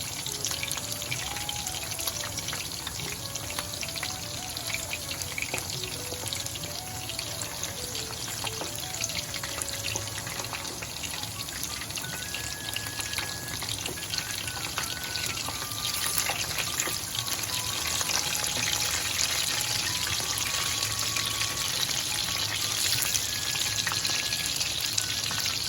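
Chicken pieces fry in oil while being turned, a continuous even sizzle with a faint watery hiss and a thin wavering tone running through it.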